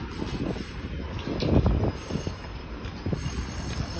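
A train passes in Valencia, a low rumbling roll with clanks and wheel noise swelling near the middle, heard close over wind buffeting the microphone.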